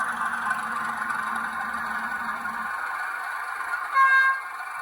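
A model Heljan Class 33/2 locomotive with a Hornby HM7000 sound decoder gives off a steady, buzzy diesel engine drone, and a brief horn-like toot rises near the end.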